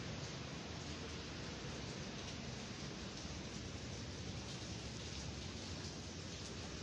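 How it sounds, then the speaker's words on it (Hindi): Rain falls in Karachi as a steady, even hiss that holds unchanged throughout, faint and with no voices. "इस वक्त भी जो है कराची में बारिश हो रही है"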